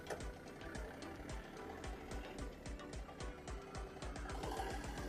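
A Yanmar AF22 compact tractor's diesel engine runs in second gear with a steady, fast mechanical knocking rhythm, moderately close and unbroken throughout.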